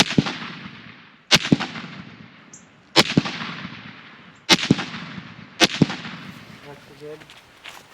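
Rifle shots from a 300 Win Mag ring out at a shooting stand, four sharp loud cracks spaced about one and a half seconds apart, each with a long fading echo, and a voice is briefly audible near the end.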